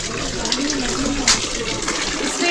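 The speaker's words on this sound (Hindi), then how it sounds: "इससे ये रॉक्स के बीच से पानी आया हुआ है जो काफी अच्छा है." Water pours steadily out from between rocks inside a cave in Meghalaya, a continuous rushing splash that is loud and close and holds even throughout, with no one speaking over it.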